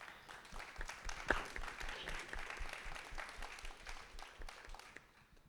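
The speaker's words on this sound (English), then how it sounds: "Give another round of applause for this wonderful group." Audience applause at an alumni free speech forum panel, a steady spread of clapping heard faintly and at a distance, holding evenly for several seconds before fading.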